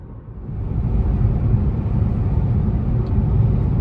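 Volkswagen e-Golf electric car with about 125,000 miles cruising at roughly 55 mph on a country back road, a steady low rumble of road and wind noise inside the cabin, with no talk.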